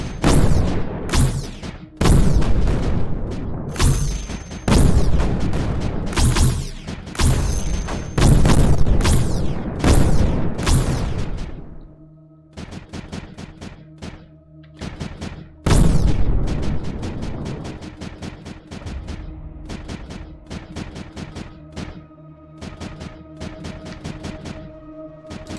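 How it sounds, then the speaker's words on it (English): Mortars fire repeatedly in the strategy game Creeper World 4, a dense run of loud booming blasts in quick succession that briefly thins out, then resumes as steadier, lighter thuds over a droning backdrop. "Mortars."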